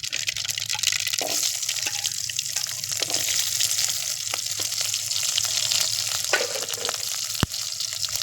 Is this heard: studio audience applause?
no